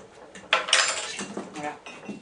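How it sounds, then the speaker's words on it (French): A spoon or whisk mixes white chocolate cake batter with vanilla in a bowl, producing a few scraping, clinking strokes against the bowl in quick uneven bursts. "Et je vais de nouveau bien mélanger."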